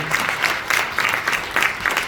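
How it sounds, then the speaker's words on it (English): A live audience at a spoken-word poetry performance claps for the performers, a loud, close burst of applause with uneven, rippling surges over about two seconds. "I'd like to ask everyone to give them another round of applause, please."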